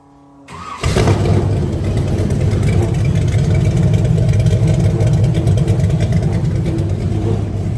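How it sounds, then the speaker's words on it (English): A modified burnout truck engine catches after a brief crank and settles into a loud, steady, rumbling idle heard up close, with no talk over it. "I want to hear this idle change"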